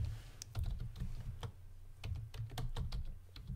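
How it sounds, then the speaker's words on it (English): Rapid, uneven clatter of keys as someone types on a computer keyboard at a desk, close and clear with short pauses between bursts of keystrokes, no voices. "if you come back to Google like this and I start typing something here"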